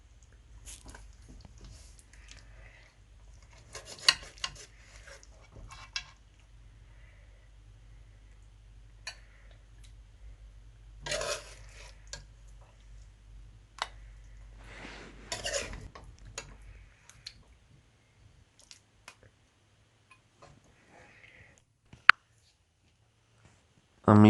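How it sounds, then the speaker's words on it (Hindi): Mutton chops served out of a cooking pot onto a plate with utensils, heard as scattered metallic clinks and scrapes of spoon against cookware in a quiet kitchen, with several brief clusters of clatter and long pauses between them. "अब हम इसको डिश आउट कर लेंगे"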